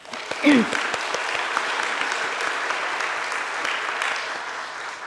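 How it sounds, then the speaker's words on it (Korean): A church congregation applauds during a Sunday worship service, a dense sustained burst of many hands clapping that fills the whole stretch at moderate loudness. "하나님 아버지께 영광과 찬양의 박수 올려드리겠습니다"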